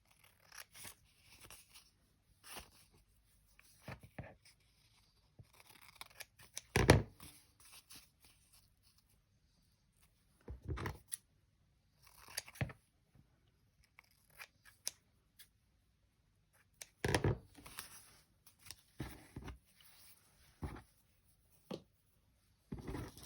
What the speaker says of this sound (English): if you've got any loose bits of fabric, you can just trim them